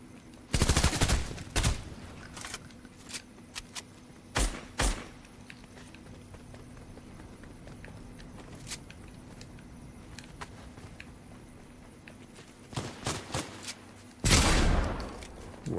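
Gunshots ring out in Fortnite, a quick cluster of sharp cracks at the start, a couple of isolated shots after, then near-silence before a final flurry of rapid fire and a louder burst.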